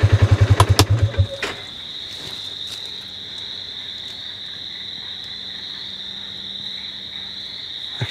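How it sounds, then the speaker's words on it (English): Chorus of frogs and insects calls from a swampy area after an ATV engine putters and shuts off, leaving a steady high trilling hum with faint croaks across the background. "You hear all these frogs."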